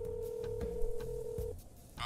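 A phone being dialed in an anime scene, a steady electronic tone running for about a second and a half over background game-like noise, followed by a brief bright burst at the end.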